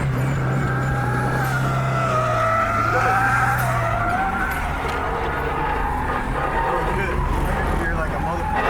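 A car drifting on a wet track at a rain drift event, tires skidding and engine droning and rising and falling close by, with voices talking over it.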